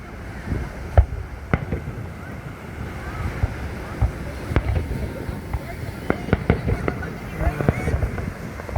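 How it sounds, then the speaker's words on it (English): Fireworks burst over the beach at Long Beach, NY, irregular muffled thumps and cracks at a distance, some in quick clusters, under wind noise and the wash of surf, with people talking nearby. "Ooh, nice type of fireworks."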